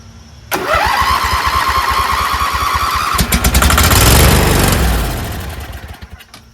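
Briggs & Stratton V-twin engine, freshly rebuilt with new pushrods and head gasket, cranks over loudly, catches after a few seconds and roars up before settling and fading, heard close with no talking.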